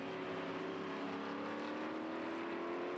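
F5000 open-wheel race cars roaring around the Ruapuna circuit, a steady, loud engine drone with a constant high whine that holds throughout.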